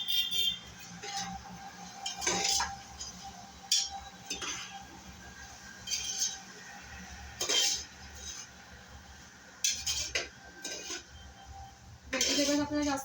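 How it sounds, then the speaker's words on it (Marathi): Vegetables for veg pulav being stirred in a metal pot, with repeated clinks and scrapes of a spoon against the pot in irregular bursts, fairly close, with a low background hum and no talking. "आता आपण त्याच्यामध्ये सगळं व्हेजिटेबल्स टाकूया. आणि चांगलं मिक्स करून घेऊया."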